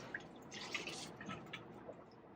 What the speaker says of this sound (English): Then you want to be sure to rinse all the ethanol off your beaker again.